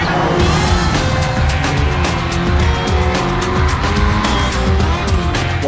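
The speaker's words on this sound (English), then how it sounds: "The roar of the engines changes depending on which camera view you pick, and tires squeal realistically" Racing car engines roar continuously with tires squealing in Race Driver 2006 on PSP, a loud, dense, unbroken blend of engine howl and screeching rubber throughout.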